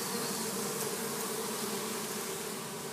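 Honey bees buzz at a hive, a dense continuous drone of many insects close by, steady and even for the whole moment.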